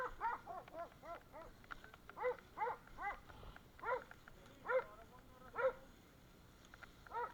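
A dog barks repeatedly at a distance on a mountainside, a series of short yaps and whiny barks spaced about a second apart, faint under a quiet background.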